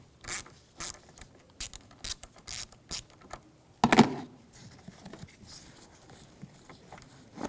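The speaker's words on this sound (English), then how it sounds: "The negative terminal is right here. We're going to use a 10mm socket." A ratchet with a 10mm socket loosening the negative battery terminal on a 2011-2018 Volkswagen Jetta gives short bursts of close, crisp clicking, repeated in quick strokes with pauses between and one louder clatter near the middle.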